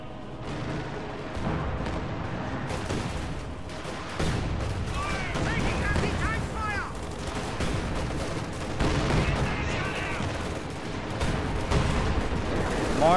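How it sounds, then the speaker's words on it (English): An assault artillery barrage pounds a sector in a World War II strategy game, dense booms and rapid gunfire rolling on continuously, with shell whistles arcing overhead and a voice talking over it. "more assault artillery coming in on this sector"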